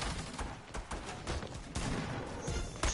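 Video game gunfire from a battle royale match, a rapid string of sharp shots and bursts at moderate loudness with some clutter behind them.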